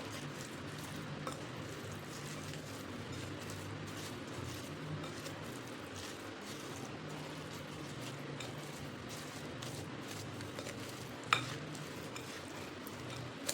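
Raw mango pickle mixture with oil being stirred in a pot, a quiet, continuous scraping and sloshing with faint clinks and one brief louder knock near the end.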